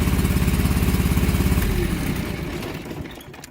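A John Deere 445 lawn tractor engine runs on its left cylinder alone, a loud, close, rapid pulsing idle that slows and fades toward the end as it winds down.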